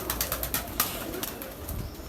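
Pigeons kept in large numbers at Baba Mast Ram's dera in a village, with soft cooing and a few brief wing flaps over a steady outdoor background, faint and close.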